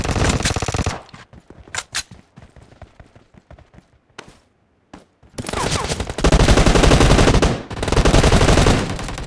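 Video game gunfire from PUBG Mobile team deathmatch, with loud automatic bursts at the start, scattered quieter shots through the middle and dense, sustained rapid fire over the final few seconds.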